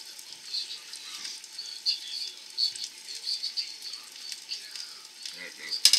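Corned beef hash sizzles in a pan with a soft, continuous frying hiss and light crackles, fairly quiet and close, with a few faint rattles near the end.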